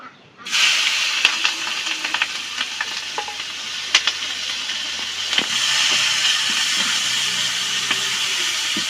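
Spicy vegetable mix frying in a pan in a village kitchen, a steady loud sizzle with scraping stirs and spatula knocks throughout and no talk.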